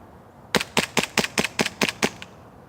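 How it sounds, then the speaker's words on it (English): A WE Commander M1911 airsoft pistol dumps its assault magazine one-handed in frosty cold: eight sharp, evenly spaced cracks in a quick burst, close and loud, with no talking. "One-handed mag dump, dude. With an assault magazine, dude."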